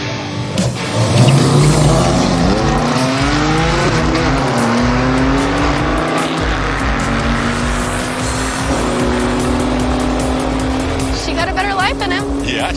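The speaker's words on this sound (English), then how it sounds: "We have Amanda in the Challenger, and then we have Johnny and his BMW." At a drag strip, a Dodge Challenger and a BMW race with loud, close engine roar that climbs through rising gear pulls, while crowd noise and voices sit underneath.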